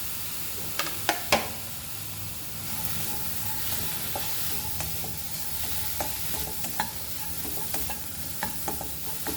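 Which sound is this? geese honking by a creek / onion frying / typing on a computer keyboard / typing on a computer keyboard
onion frying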